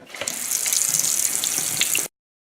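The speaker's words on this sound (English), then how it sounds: "we can go ahead and just run the water" Water pours steadily from a faucet into a sink, a close, continuous splashing hiss that cuts off abruptly near the end.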